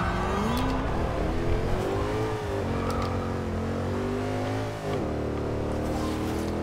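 A 2005 Mercedes-Benz SLR engine launches in the game Forza Horizon 2, revving up through gear changes with rising whines, brief dips between shifts and faint tire squeal, loud and close.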